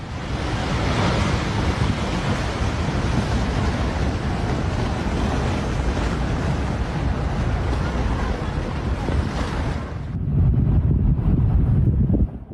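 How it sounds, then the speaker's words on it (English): Severe flood water in Pakistan rushes loudly and continuously as a shifted river inundates low-lying areas, a dense roaring wash with wind buffeting the microphone, changing to a lower rumble near the end. "Severe flooding struck Pakistan after a sudden shift in the river's flow, quickly inundating nearby low-lying areas."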